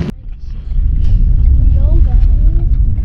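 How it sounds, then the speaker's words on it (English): Steady low rumble of a car's interior while driving, with faint voices murmuring over the engine and road noise. "We're in the car right now and we're going back to the house."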